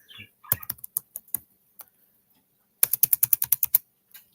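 Keys clack on a computer keyboard in two bursts: scattered single taps first, then a quick run of about a dozen rapid keystrokes, close and distinct against silence.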